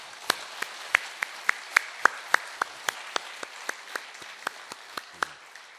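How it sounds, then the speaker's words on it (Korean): A church congregation gives sparse, rhythmic applause for the Immanuel choir after a hymn, individual claps ringing out distinctly at a steady quick pace in a reverberant hall, fairly quiet overall. "우리 임마누엘 찬양대 격려의 박수 보내주시겠습니다"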